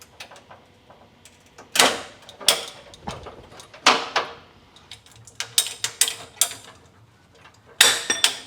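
Blunt hand cutters biting into a diesel-filled rubber hose: repeated sharp crunching snips and clunks in irregular bursts, some loud and close, separated by quieter handling noise, with no talking.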